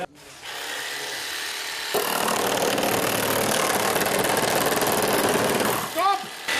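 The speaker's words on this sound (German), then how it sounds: "Ich musste so sägen." A saw cuts through wood in a long, continuous rasping run that grows louder after a couple of seconds and holds steady before stopping, with a voice briefly heard near the end.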